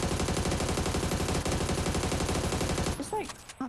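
Rapid submachine-gun hip-fire in PUBG, a loud continuous rattle of automatic gunshots lasting about three seconds before cutting off into quieter game sounds.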